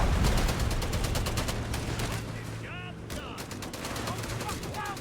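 Machine gun fire from the WWII strategy game Company of Heroes 3 rattles in dense, rapid bursts amid other battlefield gunfire and effects, steady and close throughout, with a commentator's voice faintly in places.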